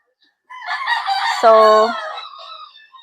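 Frizzle chickens in a garden call out nearby. After a short silence, loud clucking rises into one brief, strained crow, then trails off in quieter clucks.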